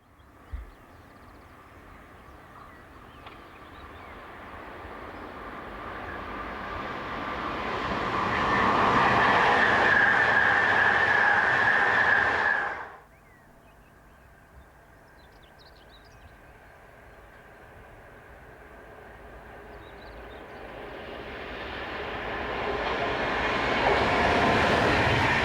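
A new Danish electric locomotive and a local passenger train pass in sequence: a rumble builds to a loud roar, cuts off abruptly, then a second train approaches and swells again.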